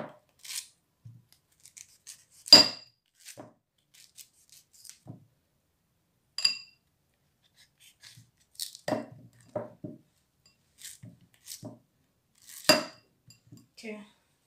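Scissors snip through an ingredient for a homemade weight-loss drink, a handful of sharp, close cuts spaced irregularly, with light clinks of glass and utensils between them.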